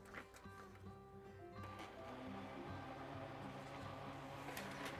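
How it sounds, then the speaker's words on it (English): A home printer struggling while it prints, giving a faint, continuous mechanical whirring and grinding with small clicks, low in level against a quiet room. "My printer sounds like it's struggling."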